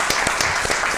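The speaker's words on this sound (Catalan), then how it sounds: "jo li faria un aplaudiment a la Maria" Audience clapping for a guest at an evening event, a brief burst of dense applause with distinct individual claps standing out, continuous and close.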